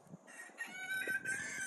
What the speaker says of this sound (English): the only ones making the noise are the roosters. That's a rooster right there.